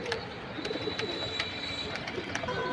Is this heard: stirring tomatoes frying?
no